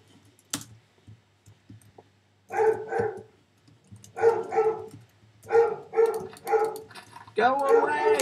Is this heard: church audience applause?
no